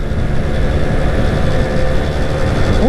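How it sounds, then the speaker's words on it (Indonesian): A Vespa scooter revs hard on a wide smooth asphalt road, its engine drone loud and continuous with steady wind rush, a short rising tone appearing right at the end. "kita geber kali Vespa ya"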